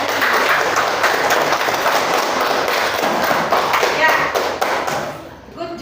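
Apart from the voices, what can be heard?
classroom applause for student group presentations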